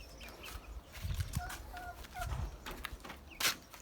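Several laying hens cluck and murmur in short bursts, fairly faint, with a sharper squawk near the end, in a village garden.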